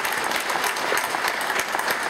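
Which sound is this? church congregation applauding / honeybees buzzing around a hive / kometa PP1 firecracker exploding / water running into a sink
church congregation applauding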